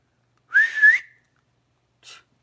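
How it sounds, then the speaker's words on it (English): A person tries to whistle, producing one short wavering whistle close by that ends in breath, then a brief faint breathy puff a moment later. "I'm going to whistle"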